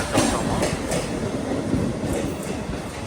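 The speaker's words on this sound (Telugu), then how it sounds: "ఇక్కడైతే ఒక ట్రైన్ అయితే ఉంది." Loud, steady rumble and rhythmic wheel clatter of an Ahmedabad–Tiruchirappalli weekly express train rolling close by on the railway track, continuous throughout with no voices.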